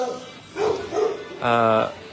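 Puppies at an animal shelter give two short, close yips and then a longer, higher whining bark.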